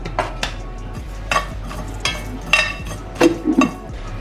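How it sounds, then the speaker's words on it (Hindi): Fennel seeds tipped into a pan with fenugreek nearby, a metal spoon scraping and clinking in several short bursts spaced a second or so apart, close and clear with no talking. "नेक्स्ट इसके अंदर मैं डाल रही हूँ मेरी सौंफ, 1 चम्मच जितनी सौंफ"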